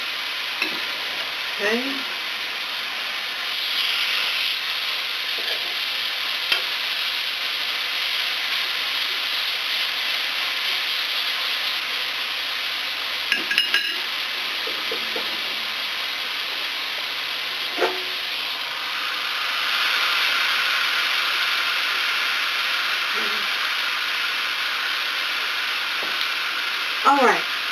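Burger patties sizzle steadily on a hot griddle, a constant close hiss with occasional spatula clicks and scrapes; someone briefly speaks.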